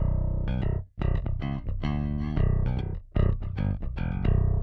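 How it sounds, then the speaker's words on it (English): A direct-input bass guitar with no effects plays a short line of round, clean notes with a solid low end and brief gaps between phrases, no voices. "So the direct bass, without anything on it, just sounds like this."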